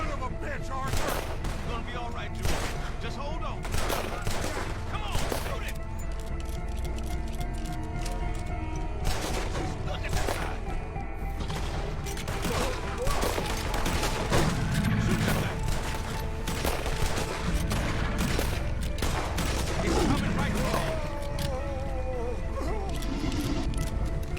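Dense gunfire rattles through a chaotic shootout in the video game Red Dead Redemption 2, with rapid overlapping shots, bursts and rumbling under occasional shouted voices.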